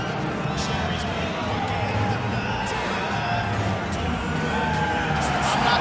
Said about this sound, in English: I'm not sure I have ever heard a louder crowd in any arena in the world than this here Bell Center in Montreal, Quebec, Canada